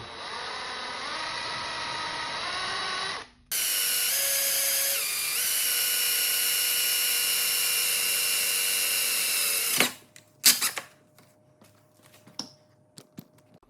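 A power drill bores a hole straight down through a 2003–2004 Mustang Cobra IRS control arm, a loud steady whine that runs unbroken for several seconds, stops abruptly, and gives way to scattered clicks and handling knocks.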